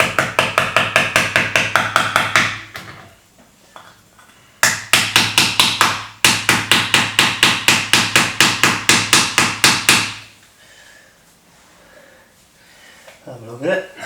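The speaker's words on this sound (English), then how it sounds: "So I start hammering away." A small hammer strikes a board in two rapid bursts of about twenty sharp, evenly spaced blows each during electronics project work. The taps are loud and close, with quiet pauses between bursts and a voice speaking near the end.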